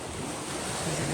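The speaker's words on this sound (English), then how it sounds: "Tide's coming in." Sea waves wash in at Aberystwyth beach as the tide comes in, a steady close roar of surf with wind buffeting the microphone and no voices.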